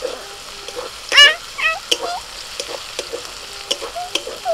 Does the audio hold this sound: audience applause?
no